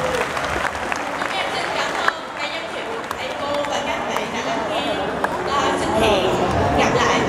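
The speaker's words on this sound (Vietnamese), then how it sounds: "Một lần nữa xin các bạn hãy cho một tràng pháo tay cho các bạn lớp 11Y" A school audience applauds a class 11Y group at a Vietnamese Teachers' Day anniversary celebration, a dense, steady wash of clapping mixed with crowd chatter that swells slightly toward the end.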